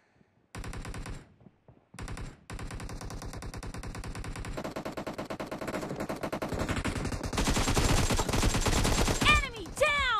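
Rapid automatic gunfire in a PUBG Mobile Domination match, dense bursts of shots that grow louder and busier toward the end, with a short pause near the start and game effects under the firing.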